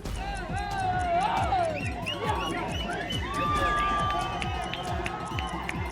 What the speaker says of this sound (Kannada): ಗೆಲುವಿನ ಕೇಕೆ ಹಾಕಿದ ಆರ್ಸಿಬಿ ಅಭಿಮಾನಿಗಳು ಜೈಕಾರ ಕೂಗಿ ಸಂಭ್ರಮಿಸಿದ್ದಾರೆ.